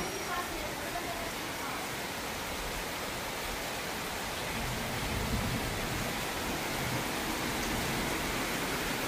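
Heavy rain pours down in a steady, dense broadband hiss that stays constant throughout, loud and enveloping with no pauses.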